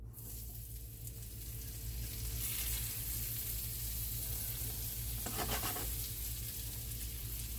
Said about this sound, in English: I'm sauteing these in butter, y'all.